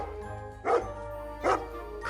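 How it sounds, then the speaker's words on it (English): A dog named Cooper barks twice in short, spaced bursts, straining after a van carrying his friend as it drives away, the yelps clear and fairly close over a low steady background hum. "He barked and howled, desperately wanting to follow."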